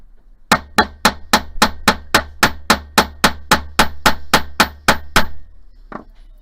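A metal hoop earring takes a single steady run of about eighteen quick, bright hammer blows, close and loud, ending abruptly with one faint tap after.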